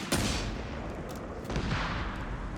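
A dive bomb attack in Company of Heroes 3 lands as a dense, continuous roar of explosions and gunfire, loud and sustained with a swelling burst partway through.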